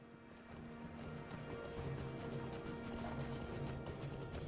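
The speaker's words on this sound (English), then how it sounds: "That's that steed that Thormurn got from the Yule Festival." Hoofbeats of a Yule Festival steed in the online game LOTRO (The Lord of the Rings Online), a steady clip-clop rhythm running throughout over a droning, tonal game soundscape, with no talking.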